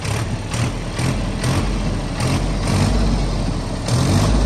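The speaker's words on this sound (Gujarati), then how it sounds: "છે ત્રણ સિલિન્ડર એનો અવાજ તમે જુઓ" A new Mahindra Yuvo Tech+ 475 three-cylinder tractor engine runs close by with a steady, low, throbbing idle that pulses gently throughout, with no talk over it.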